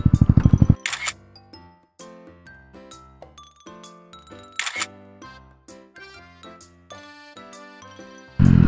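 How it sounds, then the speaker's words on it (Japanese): Camera shutter clicks and chimes while a commemorative photo is taken at a bridge in Toda Park during a motorcycle touring stop, with a series of bright, sparse clicks and tones separated by short pauses. "橋のところで、写真撮影したいと思います"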